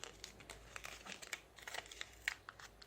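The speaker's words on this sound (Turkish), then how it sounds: "Sonra katını açıyorum." Folded paper is opened out during a paper weaving craft, giving a faint scatter of soft crinkles and crisp little rustles, close and quiet.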